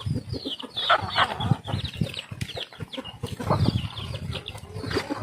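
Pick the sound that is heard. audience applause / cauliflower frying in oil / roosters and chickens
roosters and chickens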